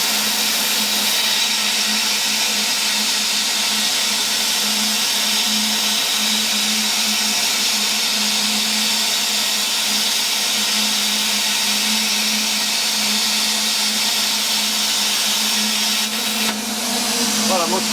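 A drag-tip plasma cutter set to about 20 amps cuts through a 2mm tube, giving a steady, loud hiss with a whining hum that runs unbroken for many seconds up close.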